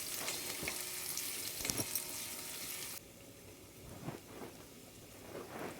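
Finely chopped onion frying in hot oil with mustard seeds and garlic gives a dense crackling sizzle. The sizzle is loud at first, then drops to a quieter bubbling fry dotted with pops and stirring scrapes.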